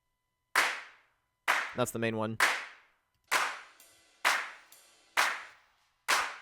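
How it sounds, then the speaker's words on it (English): Layered electronic clap samples from an electro pop production hit in sharp, evenly spaced single strikes with reverb tails, loud and close, with a brief burst of other synth sound between the first hits and a short spoken remark. "So then we got a couple claps layered."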